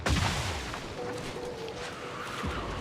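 Explosion in the video game The Outer Worlds 2: a sharp boom at the start followed by a rumbling decay and scattered crackles, moderately loud.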